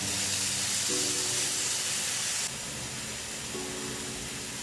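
Chicken cooking in a pan for chicken alfredo, a steady close-up sizzling hiss that drops slightly in level partway through, with a faint low hum underneath.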